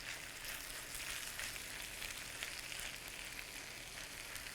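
Corned beef hash frying in a skillet on a stovetop burner, crisping on the bottom: a steady, even sizzle and crackle holding at a constant level throughout, close and continuous with no voices.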